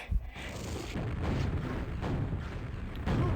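Rocket launcher fire and explosions in a Quakeworld duel match, a steady dense rumble of blasts and booms with sharper bursts at the start and near the end, fairly loud throughout.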